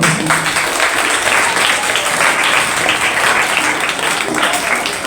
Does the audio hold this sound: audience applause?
yes